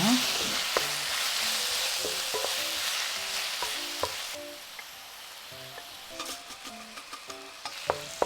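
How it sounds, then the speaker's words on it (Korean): Steady sizzling as tuna stir-fries in a hot pan with cucumber, with repeated scraping and clacking of a utensil stirring the food, fairly close and continuous. "팬 바닥에 참치를 넣어 한 번 더 볶아요"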